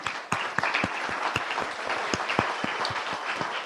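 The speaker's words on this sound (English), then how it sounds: "Round of applause" A small audience at a cannabis industry event gives a short round of applause, with sparse, distinct individual claps standing out from a thin crowd.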